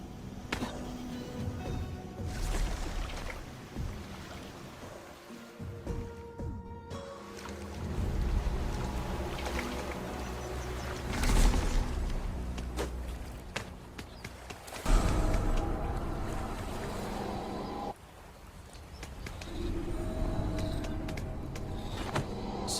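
A boat moves on water in the God of War Sons of Sparta video game, with lapping water, creaking and rumbling motion rising and falling in waves of sound, and no talk.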